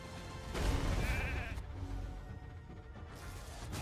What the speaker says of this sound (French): Le mouton qui nous sauve.